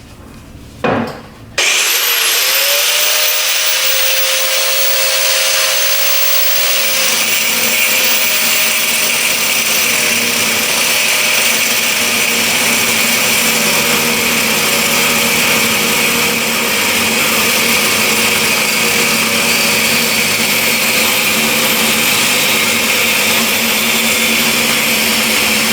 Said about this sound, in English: we're just going to cut this pin, and as soon as we get that pin apart, these 2 pieces of hinge will separate